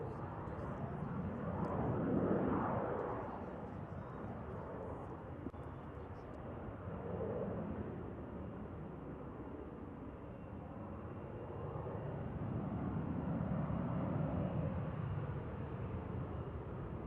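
A Spanish Navy EAV-8B Matador II+ Harrier jet performs a solo flying display at an air show, using a mix of jet-borne and wing-borne lift. Its roaring engine rises and falls steadily at a distance beneath commentary.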